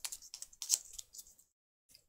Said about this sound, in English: So we need to shuffle these tiles.